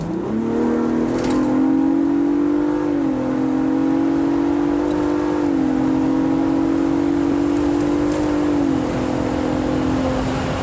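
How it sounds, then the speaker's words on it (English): A 2023 Ford Bronco Raptor's exhaust drones loud and close while driving on an old country road, holding a steady low rumble that shifts pitch a few times as the engine moves between gears and revs. "You wanna hear some more exhaust one more time?"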